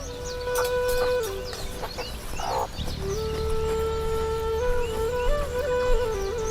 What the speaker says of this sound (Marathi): तर आज मी बनवणार आहे गावरान कोंबडा